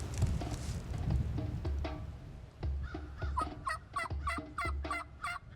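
Wild turkeys gobble in a rapid, rattling series, moderately close outdoors over low rumbling background noise, with no talk.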